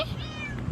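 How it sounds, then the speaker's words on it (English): A single short, close cat meow with a rising then falling pitch, brief and fairly loud over faint background hum. "Meow. Meow."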